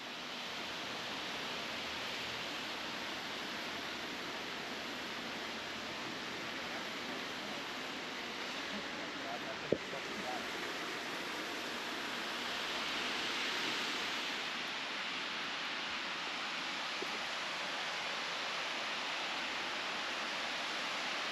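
A waterfall gives off a steady, broad rush of falling water that holds constant throughout, with a brief sharp knock partway through and the roar swelling slightly near the end.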